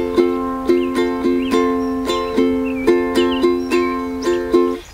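Steady calypso strum on a ukulele in 4/4 time, a down-down-up-up-down-up pattern repeating with crisp, evenly spaced chord attacks, played close and alone with no talking.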